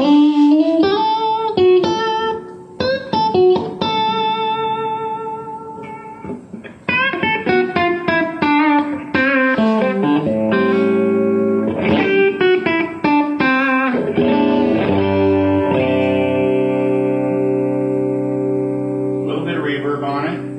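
Electric guitar played straight into a Line 6 amplifier on a warm California clean voicing, ringing chords and picked notes with sustained, bright clean tone, loud and close, with brief pauses between phrases.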